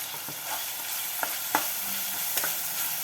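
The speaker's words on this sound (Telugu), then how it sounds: "బాగా గోల్డెన్ కలర్ లాగా వేయించుకున్న ఉల్లిపాయలు" Onions fry in oil for a home-cooked chicken curry, giving a steady, close sizzle with a few soft stirring clicks and scrapes.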